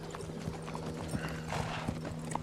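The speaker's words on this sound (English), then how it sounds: "struggling on that horse" Horse hooves clip-clop steadily at a walking pace in a period TV drama scene, moderately close, mixed with low background ambience, with a faint whinny.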